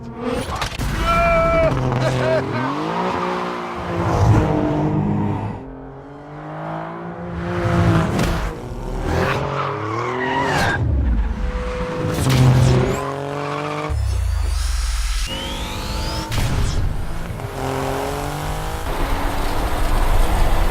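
An Alfa Romeo Giulia QV driven hard in race mode with traction control off: loud engine revving rises and falls in repeated surges, with tyre squeal and skidding, and a voice talks over it at points.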